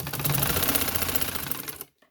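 A sewing machine stitches lace onto a girl's sleeve in a fast, even mechanical chatter for nearly two seconds before stopping abruptly, close and alone.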